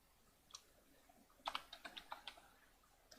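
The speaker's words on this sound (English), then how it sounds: "I'm typing here, thank you." Keyboard typing during a Minecraft modpack session: a lone faint keystroke, then a quick cluster of soft clicks, and one more tap at the end, all quiet and close with no talk.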